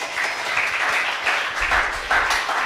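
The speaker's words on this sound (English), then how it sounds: "A round of applause, my friend" An audience at a mentorship talk event gives sustained applause, a dense wash of many hands clapping continuously, loud and steady with a few surges.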